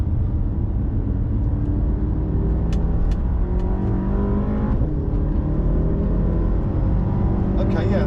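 A 2016 BMW M5 F10 accelerates hard, its engine giving a loud, rising roar heard from inside the car, with rising harmonic whine and a few clicks over the steady drone.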